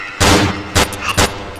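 Gunfire in the Cry of Fear video game: three loud, sharp gunshots close by, the first longest with a short ringing tail, the next two quicker cracks spaced irregularly, with no talking.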